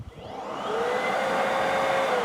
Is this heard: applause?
no